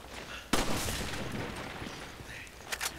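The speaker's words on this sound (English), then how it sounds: "Why am I shooting barrels?" Gunfire in Resident Evil 5 aimed at barrels: one sharp, loud shot followed by a long rumbling tail and then a quick pair of smaller bangs near the end, with no talking.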